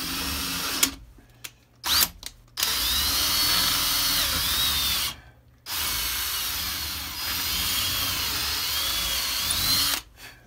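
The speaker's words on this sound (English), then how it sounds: "I don't know how sharp this drill bit is, so we'll hope that it'll be able to cut through" A power drill bit boring through material with sharp, loud whining bursts of drilling, stopping and restarting several times with short silent gaps between runs.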